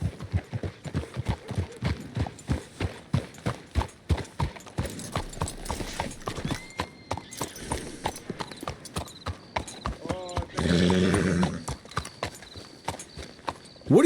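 Horses' hooves clip-clop steadily on a road in the Red Dead Redemption 2 video game, a fast regular trot that slows and then stops, with a brief loud rustle near the end.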